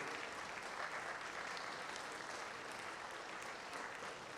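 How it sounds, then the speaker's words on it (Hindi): An audience applauds loudly at a Regional Official Language Conference award ceremony held by the Department of Official Language. The sustained, dense clapping lasts several seconds with no talk over it. "जोरदार तालियों से स्वागत कीजिए।"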